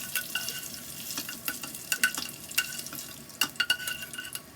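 Soft frying sizzle of tofu with scattered clicks and scraping of a utensil stirring in a pan, no voices.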